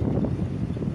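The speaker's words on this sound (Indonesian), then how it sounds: "Ada berawan, ini angin parah loh nih." Strong wind buffets the microphone outdoors at an electrification project site under a cloudy sky, a constant low rumbling roar that fills the whole second without a break.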